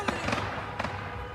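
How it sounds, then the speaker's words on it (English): Fireworks and firecrackers set off in a street during a protest with a long line of cars, giving a few sharp cracking pops spaced apart over a steady crowd and traffic hum. "Fireworks, some firecrackers let off in the street right there."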